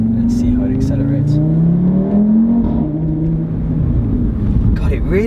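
Audi RS3 engine pulling hard under acceleration, a loud rising harmonic drone that climbs steadily, dips briefly at a shift, then builds again, heard from inside the car with a voice speaking over it.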